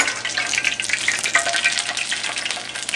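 Lumpia shanghai frying in very hot oil, a close, continuous crackling sizzle with dense popping bubbles throughout.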